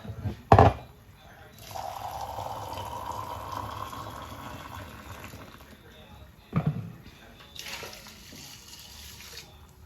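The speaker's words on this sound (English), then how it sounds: "Add water." Water running from a tap into a cooking pot for Jamaican oxtail with butter beans and rice, a steady moderate pour lasting several seconds, framed by sharp clanks of the pot and a voice in the kitchen.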